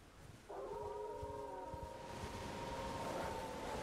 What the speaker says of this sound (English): Jeez, there are so many wolves.